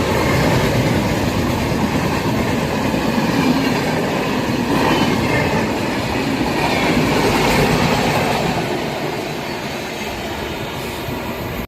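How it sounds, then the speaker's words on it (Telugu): A WAP 7 locomotive hauling the 12706 Secunderabad–Guntur Intercity rumbles past near Mallemadugu. A loud, continuous roar with rhythmic clickety-clack wheel beats slowly eases off toward the end, with no talking. "వ్యాప్ 7 లోకోమోటివ్ వెళ్తుంది."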